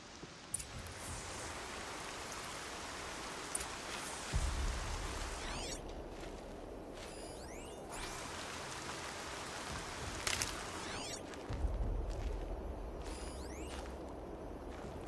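Steady rain in the video game Horizon Zero Dawn hisses with occasional heavier gusts and low rumbling swells, plus a few faint chirping and clicking sounds over the downpour.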